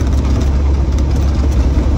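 A 1965 Triumph Herald 1200 convertible idles steadily close by, a low, even engine rumble holding an unbroken rhythm throughout with no misfiring or hesitation.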